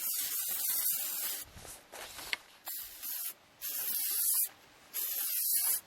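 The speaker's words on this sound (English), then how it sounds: "You can spray it in there." Lubricant sprayed onto the mast furling of a kayak sail in a series of hissing bursts, some long and some short, separated by brief gaps, fairly close and with no one speaking.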